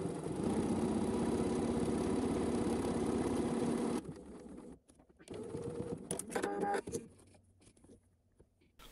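A sewing machine stitching a buttonhole on knit fabric runs in a steady, dense mechanical whir for about four seconds, then stops, followed by quieter clicks and a brief shorter burst of motor noise.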